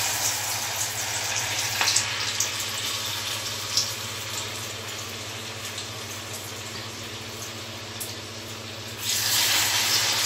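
Flattened-rice aval vada fritters fry in hot oil, a soft continuous bubbling hiss with a few small pops, swelling louder near the end.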